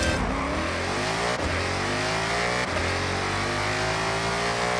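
A drag car engine in the video game Forza Horizon revs hard and launches, its harmonic whine climbing steadily in pitch as it accelerates, loud and continuous with brief gear-shift dips.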